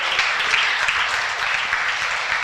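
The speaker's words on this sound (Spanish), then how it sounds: "Denle el aplauso a Dios, hermanos, porque Él lo hizo, no yo." Steady church congregation applause, a sustained wash of many hands clapping at moderate loudness from start to finish, with no voices over it.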